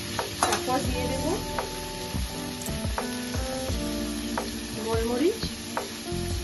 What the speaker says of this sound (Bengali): নাড়াচাড়া করে ভালো করে নাড়াচাড়া করে দিলাম